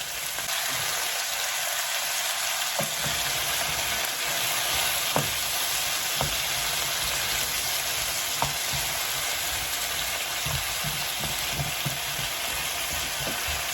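Zucchini fries in a pan with a continuous, dense sizzle, scattered spoon taps and stirring scrapes at intervals, close and even throughout, no voices.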